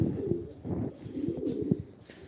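Several pigeons cooing close by, overlapping soft throaty calls in a continuous low murmur.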